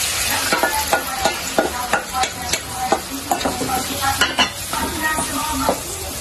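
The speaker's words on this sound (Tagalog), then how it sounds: "Lagay na natin itong red rib. Lalagay din natin yung sauce yung pinagbabaran natin para malasa." Pork spare ribs and their marinade sauce go into a hot pan and sizzle loudly, with a steady fry hiss broken by repeated utensil scrapes and clinks against the pan.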